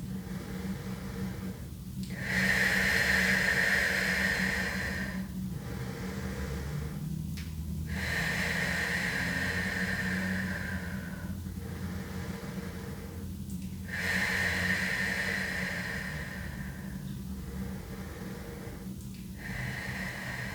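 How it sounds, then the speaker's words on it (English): Slow, deep guided breathing, each breath drawn in through the nose and let out through the mouth, repeating in a steady cycle of long airy inhales and exhales, close and alone with no talking. "inhale through the nose, and exhale through the mouth. Take 4 more breaths like this."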